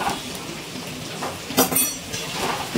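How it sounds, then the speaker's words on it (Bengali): Fried potatoes tipped into a pan of egg and spice mixture for homemade egg biryani, giving a soft metallic clatter of utensil against pan with a brief louder burst midway over a steady low cooking hiss. "এবারে দিয়ে দিচ্ছি ভেজে রাখা আলু।"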